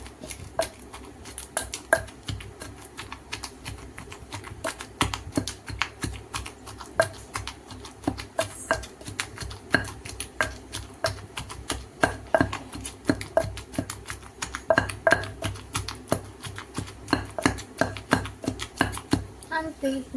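Red onion pounded lightly in a mortar for gongura (sorrel leaf) chutney, a rapid, steady series of close, sharp thuds and taps that keeps going throughout.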